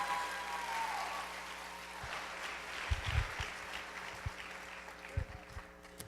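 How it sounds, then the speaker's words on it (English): Faint audience applause at a charity dance show, a soft steady patter of clapping that rises slightly midway, with a thin tone at the start and a few louder knocks. "Let's have one more round of applause for Sheriff Joey Terrell and Francie Keene."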